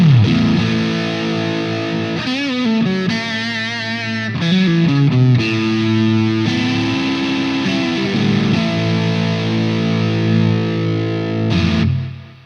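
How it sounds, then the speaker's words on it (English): An electric guitar played through a Boss OS-2 pedal in distortion mode produces loud, saturated chords and bending notes, some sustained and some quick, with no other sound, ending in a short final strum that fades away. "It's got distortion."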